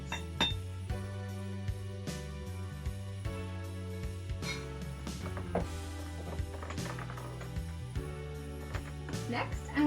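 Big ice cubes knock and clink against an old-fashioned glass as a whiskey cocktail is built, with scattered close taps and rattles over soft background music.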